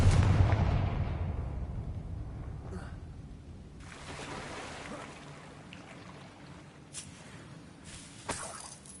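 In Hogwarts Legacy, a Confringo blasting spell goes off in one heavy, booming explosion at the start. The rumble fades over several seconds, and a few smaller cracks and bursts follow later.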